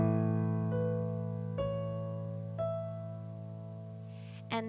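Sustained piano notes ringing together with the sustain pedal held over a held bass, with a few soft new notes struck every second or so, letting each decay slowly into the wash.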